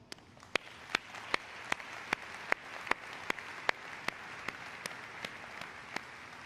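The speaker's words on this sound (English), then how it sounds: "I'm sure you would all agree that our associates deserve a big round of applause" An audience at a BMW plant presentation gives a faint round of applause, with separate sharp claps repeating steadily against a quiet room tone.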